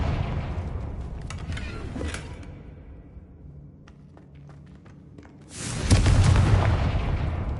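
Confringo spell blasts in the Hogwarts Legacy game, with booming bursts early on, a quieter stretch of scattered taps, then a loud rumbling explosion that swells and lingers near the end.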